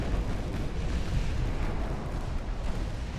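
Torpedo explosions in the naval warship game Ultimate Admiral: Dreadnoughts, a rolling series of heavy low booms and rumbling blasts that overlap continuously, loud and dense without pause.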